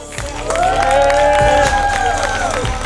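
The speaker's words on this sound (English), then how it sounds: "Give a big round of applause to Luke Moore." A crowd claps and cheers loudly and steadily for a few seconds, with whoops rising above the applause, at a college comedy show in a theater.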